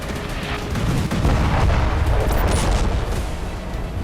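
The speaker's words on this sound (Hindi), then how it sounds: "500 किलो के इन बमों से जोरदार धमाके हुए" FAB-500 aerial bombs of 500 kg strike a building used by troops beside the Dnipro river. The blasts come as a continuous barrage of heavy booms and crackling rumble, loud and sustained for about four seconds, with no voices.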